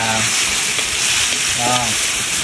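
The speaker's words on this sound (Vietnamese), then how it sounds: "Thơm mà tao bỏ này vô tao xào cho nó săn lại rồi bỏ nước dừa vô từ từ nha" Pineapple stir-frying in a hot pan for mì Quảng: a steady, close, loud sizzle with crackling oil runs throughout, with faint stirring scrapes and no voices.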